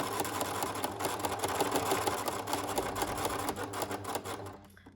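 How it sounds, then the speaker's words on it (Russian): A sewing machine runs steadily through its stitches, joining coils of clothesline into an oval rug, with a fast even mechanical patter that slows and stops at the end. "И теперь можно шить."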